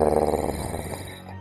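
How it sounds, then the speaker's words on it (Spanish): A wolf's soft, deep growl, rendered as a sound effect in a Spanish horror audiobook retelling of Little Red Riding Hood, rumbling low and steady for a moment before easing off, with no voices. "El lobo desvió entonces su mirada hacia el hacha y gruñó suave y"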